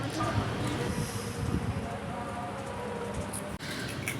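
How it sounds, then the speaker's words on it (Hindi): Steady light drizzle patters outdoors on a rainy morning as a broad, even hiss with soft scattered drop sounds, continuous throughout at moderate level. "तो बस रिमझिम बारिश हो ही रही है"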